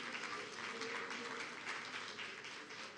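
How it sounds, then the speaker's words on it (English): A church congregation at a Sunday service claps in steady, moderately distant applause that keeps a even wash of sound throughout, with faint voices mixed in. "let's give a round of applause to those who are joining us"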